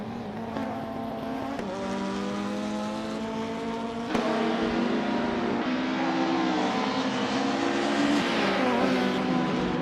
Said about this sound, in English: Jackal is driving a 1993 Toyota Carina GTI.